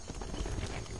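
Horse hooves clip-clopping in a video game, a rapid, even trot of muffled thuds over a dense background, brief and moderately loud.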